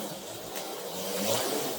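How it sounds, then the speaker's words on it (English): An HO-scale Autoworld Datsun 510 X-Traction slot car on stock tires runs around the track with a steady, close whirring hiss of motor and tire noise that swells slightly toward the end. "I think some of the noise you get is from the tires"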